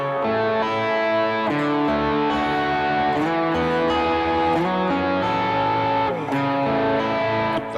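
Electric guitar played through heavy drive with ambient effects, a thick, distorted worship-style tone sustaining chords and open triads continuously and loudly, with no talking.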